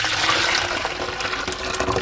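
Hot sweetened tea concentrate is poured into a pitcher holding sugar, giving a continuous rushing splash of liquid that lasts about two seconds at close range.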